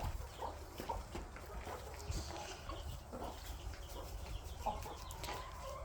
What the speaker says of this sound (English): Chicken frenzy. Chicken frenzy.